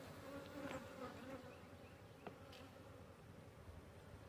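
Dense, continuous buzzing of many honeybees close by inside an open hive in January, a steady droning hum with occasional louder passes near the listener.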